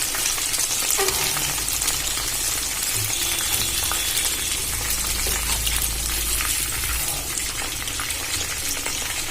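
Soybean chunks fry in hot oil in a pan on a gas stove, giving a loud, steady, crackling sizzle that runs unbroken throughout with no talking.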